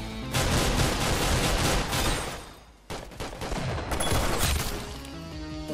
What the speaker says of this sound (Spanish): se me quedó disparando la otra pistola